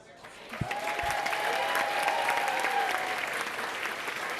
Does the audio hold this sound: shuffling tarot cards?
no